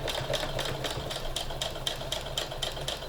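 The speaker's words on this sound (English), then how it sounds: "We're just going to stitch right along, turning for the bend, top of the nose, here we come." A sewing machine stitches a fabric face mask around the bend at the nose, a close, steady motor hum broken into even rapid pulses of stitching, with no voices.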